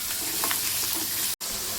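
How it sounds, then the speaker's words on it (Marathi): Ground garlic fries in oil with a steady sizzle and a few soft stirring sounds, briefly cut by a short dropout near the end. "लसूण वाटून घेतलेलं ते टाकून द्यायचं आणि लालसर भाजू द्यायची आपल्याला।"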